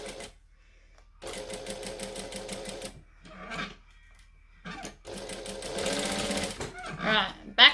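A sewing machine stitches a dress collar band in several short bursts of quick, even clatter, with a final burst at the end, separated by brief pauses and a voice speaking between them.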